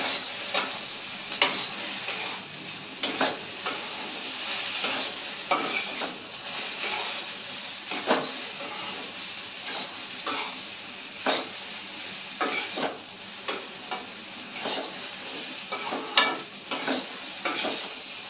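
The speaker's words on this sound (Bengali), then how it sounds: "এখন এটা আমি ভালো করে ভাজবো।" Chana fries with a little onion in a pan, a low steady sizzle broken by frequent scraping and tapping of a spoon against the metal, close and moderately loud, no voices.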